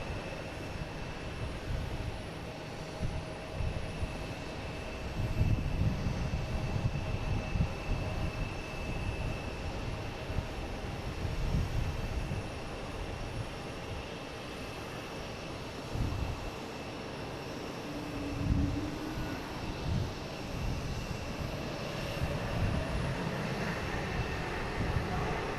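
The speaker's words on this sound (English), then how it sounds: "next to come in, actually, we have a flight from Buffalo, an A220, flight 516" An Airbus A220 jet arriving from Buffalo at Boston Logan, a continuous rumbling engine roar that swells slightly mid-way and near the end, steady and moderately loud with no voices.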